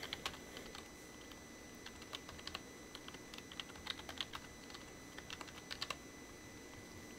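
A password is typed on a computer keyboard while a server workstation is being set up: soft, irregular key clicks, faint and close, with no talking over them.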